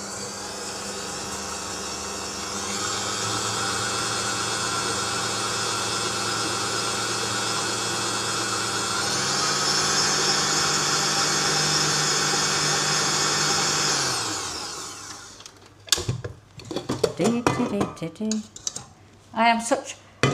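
An electric hand mixer whirs steadily for about twelve seconds, beating lemon drizzle cupcake batter with egg in a home kitchen, then cuts off and a voice follows.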